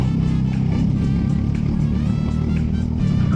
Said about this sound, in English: I accidentally locked up the brakes